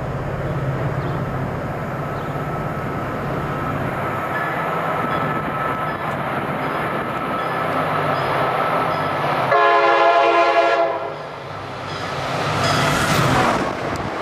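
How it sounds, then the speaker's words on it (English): A train rumbles steadily past up close, then a loud sustained horn blast with layered tones sounds near the end, strong and near over the rolling rail noise. "Oh, we got another train horn today."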